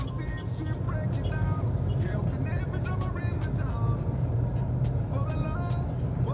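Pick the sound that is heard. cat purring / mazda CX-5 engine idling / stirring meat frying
mazda CX-5 engine idling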